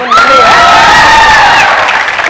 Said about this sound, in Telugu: మీరు చప్పట్లు కొట్టాలి.